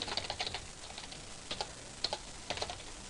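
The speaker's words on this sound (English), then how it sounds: "I can't type today." Computer keyboard typing at close range, irregular bursts of quick key clicks with short pauses between them, no talking.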